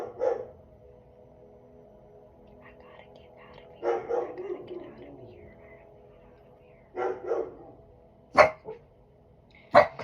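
A dog indoors lets out a couple of short, sharp barks near the end, between stretches of quiet and soft, low talking.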